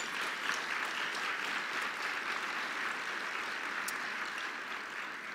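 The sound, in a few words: audience applause at a luncheon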